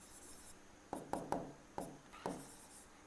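A pen or pencil writes an equation by hand on paper, five or six short, close scratchy strokes in quick irregular succession with quiet pauses between them.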